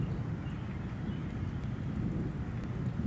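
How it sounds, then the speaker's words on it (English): Thunder from a tornado-warned spring storm in Robertson County, Tennessee rolls as a low, steady rumble with rain hiss, sustained and fairly loud with no voices over it. "Good thunder. Definitely good sound."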